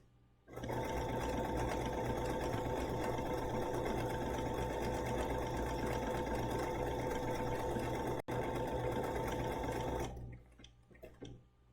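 A BERNINA sewing machine stitches a circular embroidery design in one steady, loud, unbroken run of about ten seconds, with a very brief gap near the end before it stops and leaves near-silence.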